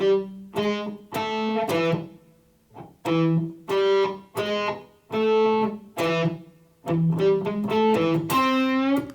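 An electric guitar plays a riff, loud and close, as a run of sharp plucked notes with short gaps, ending in a bent note.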